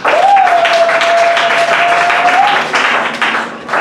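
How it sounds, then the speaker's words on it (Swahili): A church congregation at a worship service claps loudly and continuously, with a sustained sung or held tone riding above the applause before the clapping thins toward the end. "Mbele basi makofi yako nasikia."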